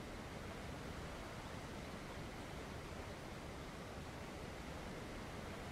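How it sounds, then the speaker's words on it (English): A waterfall roars as a steady, broadband rush of falling water, constant and fairly faint, with no voices. "There's nothing like this waterfall."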